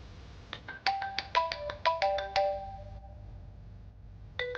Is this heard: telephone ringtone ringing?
yes